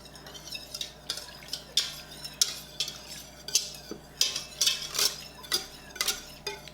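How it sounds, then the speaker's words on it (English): Starter yogurt being stirred into milk in an Instant Pot, heard as a steady rhythm of close metallic clinks and scrapes from a utensil against the inner pot, with no talking. "So go ahead and mix that up really good."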